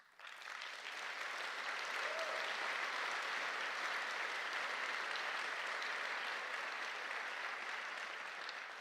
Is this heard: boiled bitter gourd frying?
no